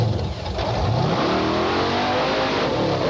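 A Bigfoot 4 monster truck engine revs hard on an off-road course at the 1989 Indianapolis 4 Wheel & Off Road Jamboree Fall Nationals, a loud, sustained roar that climbs in pitch with no voices over it.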